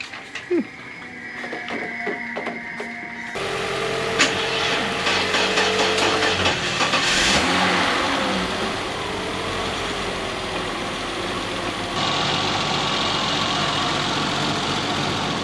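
A 1991 BMW 325ic (E30) engine cranks and catches, then settles into a steady idle with a rough mechanical hum, loud and close, continuing unbroken to the end.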